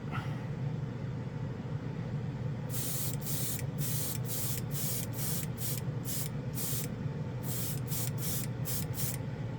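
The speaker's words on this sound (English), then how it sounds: "While we're spraying, and there's some still in the cup," Short, loud bursts of Dspiae chrome paint from a spray gun onto a white model, repeated about fifteen times in quick succession over a steady low hum from the room or a compressor.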